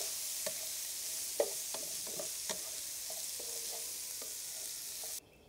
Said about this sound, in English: now we're gonna add a little bit of flour to our meat.